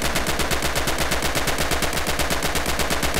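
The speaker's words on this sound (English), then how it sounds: "Use blind fire now and see what you can hit." Rapid automatic gunfire from blind firing over cover in the video game Red Orchestra 2, a steady loud stream of evenly spaced shots sustained throughout with no pauses.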